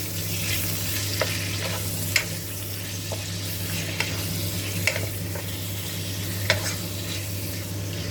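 Crispy pork belly frying in a wok with salt and stirred, a steady close sizzle of hot oil punctuated by scattered sharp scrapes and clicks from the utensil, with no talking.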